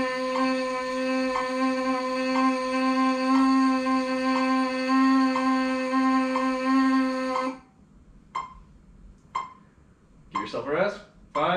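A brass trumpet holds a steady, bright D for several seconds, then short isolated blips and a brief rising flourish follow.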